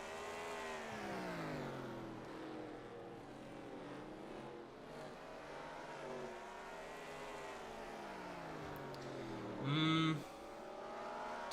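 Race cars from a NASCAR-style oval race video game, the Lionel 600, their engines droning and shifting pitch steadily throughout, with a brief louder rising whine near the end.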